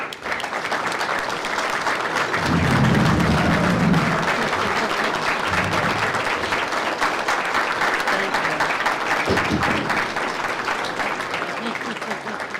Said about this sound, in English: give you a round of applause for putting all this stuff together